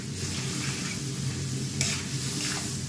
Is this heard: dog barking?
no